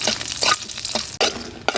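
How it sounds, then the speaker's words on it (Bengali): Dried chillies fry briefly in oil left over from frying eggplant, with bursts of sizzling and a couple of quick stirring scrapes, close and fairly loud. "বেগুন ভাজা তেলে কয়েকটা শুকনো মরিচ ভেজে নিচ্ছি।"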